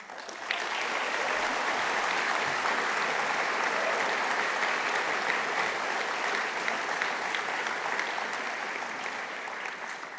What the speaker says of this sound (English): So make sure that you give her an extra big round of applause.